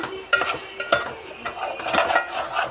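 Prawns frying with coriander leaves in a pan, stirred with a spatula that scrapes and clinks against the metal in several quick strokes over a low sizzle, close by, with no talk.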